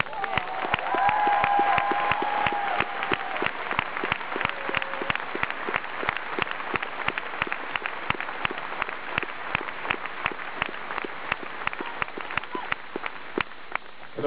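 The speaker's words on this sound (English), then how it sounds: "So big applause for all the crew." Concert audience at a show in Oberhausen applauding steadily, a dense sustained wash of clapping from a large crowd that carries on without a break.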